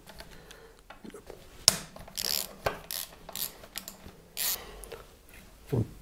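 Rear brake bolts being loosened and unscrewed on a motorcycle during disassembly before separating engine from frame, giving scattered close ratcheting clicks and metallic tool clanks in irregular bursts over a quiet workshop background.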